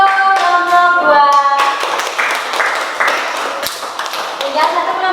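Classroom audience clapping for a student group after its presentation, a loud, near mix of hand claps and taps with voices over it.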